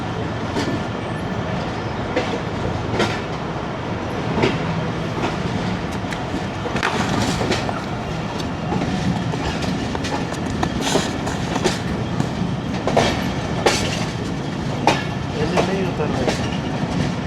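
The 39 Up Jaffer Express rolling along rail tracks between Sadikabad and Lahore, a continuous loud rumble with rhythmic clickety-clack wheel beats and occasional sharp clanks, heard from inside a coach with faint voices in the background.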